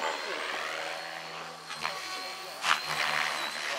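A Logo radio-controlled helicopter flown hard in a grass-roots flying demo gives a steady high rotor and engine whine with brief surges, heard at a distance under a voice talking.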